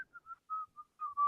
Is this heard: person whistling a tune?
yes